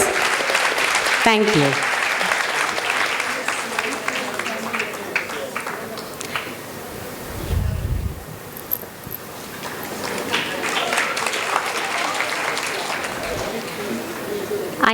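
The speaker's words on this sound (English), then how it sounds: "Students, a loud round of applause for the student volunteers." A student audience at a university panel event applauds the student volunteers: loud sustained clapping fills the room, briefly dipping and then swelling again, with talk and a short spoken thanks over it.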